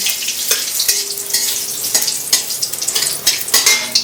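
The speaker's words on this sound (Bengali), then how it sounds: "শুকনো লঙ্কার গায়ে জল ছিল, যার জন্য চটপট চটপট করে ফুটছে।" Dried red chillies still wet with water crackle and spit in hot oil, with sharp, irregular pops bursting over a loud, close sizzle while a utensil stirs.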